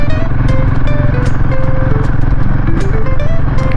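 Royal Enfield Himalayan motorcycle climbing a steep mountain road with engine braking, its engine droning loud and steady throughout with rising and falling pitch under constant wind and road rumble; no talking.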